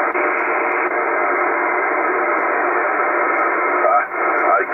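Amateur radio transceiver, Kenwood TS-590S or Yaesu FT DX 1200, with noise reduction off, giving a loud, steady band-limited hiss of static with faint garbled signal underneath.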